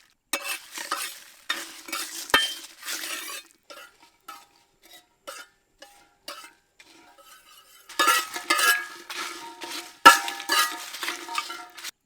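Whole spices such as Byadgi and Guntur chillies, cinnamon, cardamom, cloves, coriander seed and bay leaf frying in oil in a pan, with a spoon scraping and clinking as they are stirred and a light crackling sizzle, louder toward the end.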